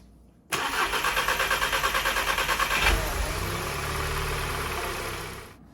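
A Volkswagen MQB-platform car with an upgraded high-pressure fuel pump cranks with a rapid rhythmic whir for about two seconds, catches with a surge, then settles into a steady, loud close idle before cutting off.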